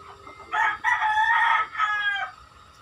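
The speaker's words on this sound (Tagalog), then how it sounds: "Ang ingay ng manok, guys." A rooster crows loudly and close by, a long drawn-out call broken into a few segments, with faint background noise underneath.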